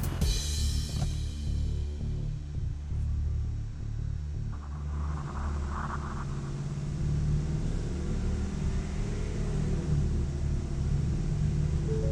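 A truck engine runs steadily in 7th gear on a chassis dyno at around 2,000 to 2,500 RPM, giving a loud, constant low rumble with a brief mid-range whine partway through and no talking.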